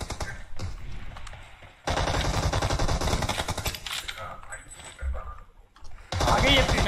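Automatic gunfire in a PUBG Mobile team deathmatch on the Warehouse map, sustained rapid bursts with short pauses, loud and close, mixed with a talking voice.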